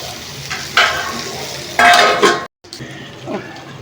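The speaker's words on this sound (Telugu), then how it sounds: "ఇప్పుడైతే పచ్చిమిర్చి వేసి ఒక రెండు నిమిషాలు మూత పెడదాము" Okra and green chillies frying in a pan, with loud bursts of sizzling and stirring, a sharp clatter of the pan or lid, then softer sizzle continuing.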